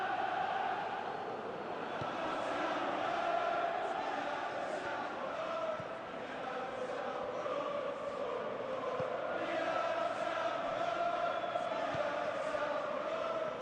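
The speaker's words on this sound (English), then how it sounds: "Well, the crowd clearly like what they just saw." A simulated stadium crowd in the PES 21 football video game during an Inter–Roma Serie A match roars steadily and continuously at a moderate distance, a sustained swelling crowd noise throughout.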